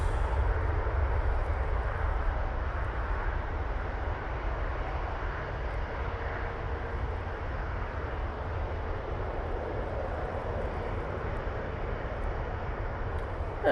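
An easyJet jet airliner rolls down the runway on its takeoff run, a steady, loud broadband engine roar holding evenly throughout with no voices.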